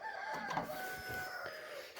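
A brown rooster crows once nearby on a small poultry farm, a faint, drawn-out call heard on its own.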